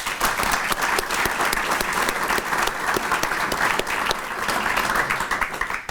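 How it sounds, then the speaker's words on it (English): Audience applauding city officials and staff at a State of the City address, a steady, dense burst of many hands clapping that carries evenly for several seconds with no talk over it. "They deserve a round of applause."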